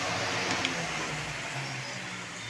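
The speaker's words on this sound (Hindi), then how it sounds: "तो कूलर की आवाज़ आ रही है।" An air cooler runs in a room of a home during the day, giving a steady, even whooshing fan noise that fills the space without pauses or change in level.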